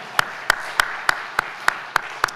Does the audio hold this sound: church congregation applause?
yes